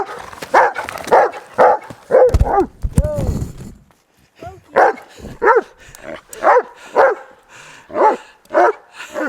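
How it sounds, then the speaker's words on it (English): A dog barks loudly and repeatedly at close range as people get backpacks on before a hike on Mount Evans. The sharp barks come in a steady series with short gaps, some whimpering or voice sounds mixed in. "He always barks when we get ready to go, when we get the backpacks on."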